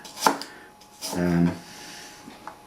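Green tomatoes are chopped by hand with a knife on a board for chutney, two distinct chops, a sharp tap and then a longer cutting stroke, close and clear with faint knocks afterward.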